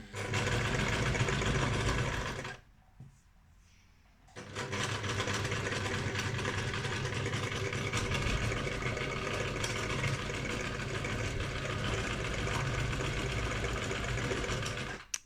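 Sewing machine stitching fabric in a steady fast whirring rattle, briefly pausing for about two seconds before resuming at an even pace, close and clear with no talk.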